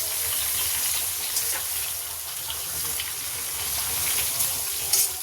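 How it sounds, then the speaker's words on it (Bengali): Hilsa fish pieces half-frying in a small wok give off a steady, close sizzling hiss that carries on evenly throughout, with a few faint clinks near the end. "এবার মাছগুলোকে আলতু হাতে চতুর্দিকে বিছিয়ে দেবো যাতে হাফ ফ্রাই মতন হয়ে যায়।"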